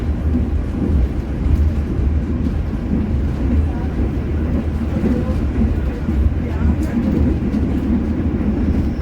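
The Gajayana passenger train runs at speed past Rejotangan station, heard from on board as a steady loud rumble and roar with faint rail clatter throughout.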